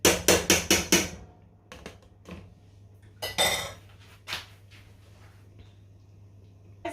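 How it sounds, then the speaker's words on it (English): Dishes and pots clatter and clink in quick bursts, a rapid run of knocks at first, then scattered clanks over a low background hum. "While the porridge is boiling, I'm going to be doing my washing up"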